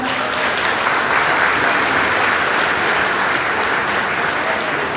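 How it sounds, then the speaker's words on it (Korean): Dense, steady applause from a large crowd at a political party convention and rally, sustained at an even loud level for several seconds with no pauses. "당원 여러분께 큰 박수 부탁드립니다"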